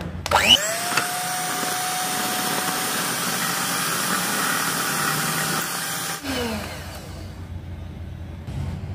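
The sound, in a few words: electric mixer blending butter in bowl for plum cake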